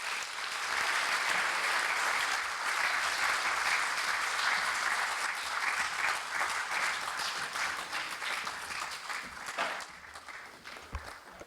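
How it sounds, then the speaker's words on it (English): Sustained applause from a lecture audience at the University of Dar es Salaam after former President Benjamin Mkapa's talk: dense, even clapping from a large crowd, steady throughout and thinning slightly toward the end. "another round of applause for a brilliant lecture"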